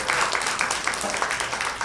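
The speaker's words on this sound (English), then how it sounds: "Give the organizers and 2 MCs a big round of applause," Audience applause at a public meet-and-greet with newly elected mayors and councillors, a short burst of moderate clapping from a gathered crowd, slightly distant and fairly soft.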